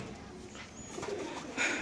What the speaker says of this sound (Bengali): একটা নর কবুতর দেখেন মাশাআল্লাহ, খুবই সুন্দর